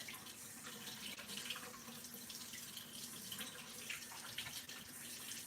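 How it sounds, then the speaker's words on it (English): Water runs steadily from a kitchen tap as hands are washed, a soft, even splashing stream with faint irregular drips and sloshes, quiet and close, with no talking. "And I will wash my hands."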